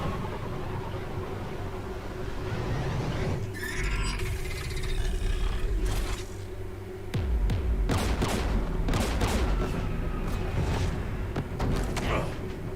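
Gunfire rattles in the Mass Effect 3 video game, dense bursts of shots and impacts layered over a constant loud roaring drone of engines and battle ambience.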